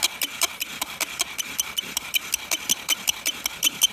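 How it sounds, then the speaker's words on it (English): Rhythmic rasping strokes of a bow drill grinding wood, steady back-and-forth scrapes repeating quickly and evenly, close and fairly loud. "So I got my bow drill set up here. Let's see if we can generate some heat"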